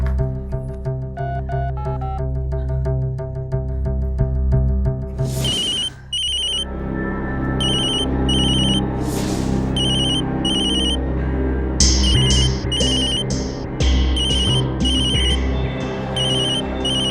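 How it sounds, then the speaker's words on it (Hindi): A mobile phone rings with a repeating ringtone pattern over loud dramatic background music in a Hindi TV crime-drama scene. The ring recurs several times and stays prominent, with no talk. "उनमें से एक का फोन है। मत उठाना।"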